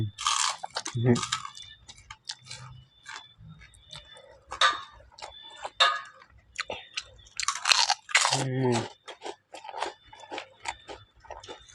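Pork cracklings crunched during a meal of khao soi, with sharp, irregular crunchy bites spread through the stretch, close and fairly loud, with some talk and chewing between bites.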